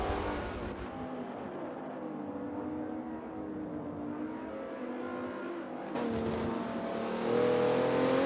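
Racing car engines in an exotic GT race in a video game, including a Porsche, give a steady droning roar with shifting pitch and a louder surge of revving near the end. No voices are present.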